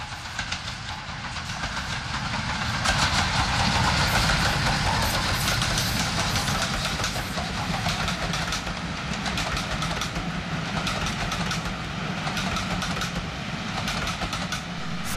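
Mayflower steam locomotive heading southbound on the East Lancashire Railway, passing steadily with a continuous rumble, rail clatter and hiss at moderate distance, no voices.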